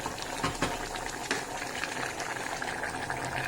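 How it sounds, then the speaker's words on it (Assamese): Meat simmering in an uncovered pressure cooker makes a steady bubbling, boiling wash with a few louder pops and gurgles, close by and fairly constant with no talking. "মই মাংসখিনি ভালদৰে সিজিব দিম ঢাকোন নলগোৱাকৈ এনেই সিজিব দিছোঁ কুকাৰত"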